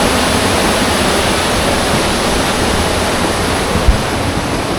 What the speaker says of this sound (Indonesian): Ini airnya, air terjun.